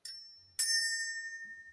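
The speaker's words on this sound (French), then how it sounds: "J'avais oublié de te faire sonner la cloche." A small bell rings twice with clear, sustained metallic tones that ring out and decay, a third strike cut off at the end, with no talking.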